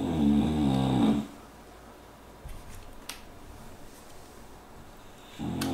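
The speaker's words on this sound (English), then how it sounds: "And I'll just pause while he's snoring his head off." A person snores loudly and close by in two long rasping breaths, one at the start and one at the end, with a quiet pause between them.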